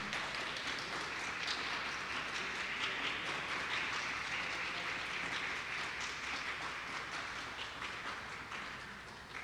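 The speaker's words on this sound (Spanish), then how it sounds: "Démosles un fuerte aplauso." Audience applause at a museum event on music and historical figures, a steady dense wash of many hands clapping that holds throughout and fades slightly toward the end.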